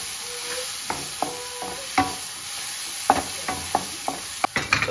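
Garam masala powder stirred in a sizzling frying pan for a green egg masala, with sharp, irregular scrapes and taps of the utensil against the pan over a soft, steady fry.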